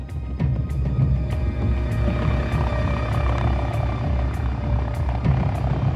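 An air ambulance helicopter thrums nearby with a steady rotor chop and engine drone, regular blade beats pulsing through a low rumble.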